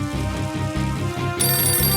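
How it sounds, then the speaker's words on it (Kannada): A telephone rings with a repeating electronic ringtone, a steady pulsing pattern, fairly loud and close, with no voices over it. "ರೇವಾ, ಬೇಗ ಲಡ್ಡು ಸಿಂಗ್ ಸರ್ಗೆ ಫೋನ್ ಮಾಡು."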